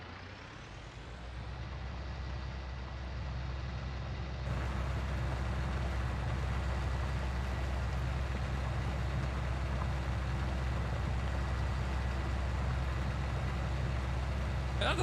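Massey Ferguson tractor in Farming Simulator pulling a plow, a steady loud engine drone that swells after a few seconds and holds a constant heavy rumble with no talk.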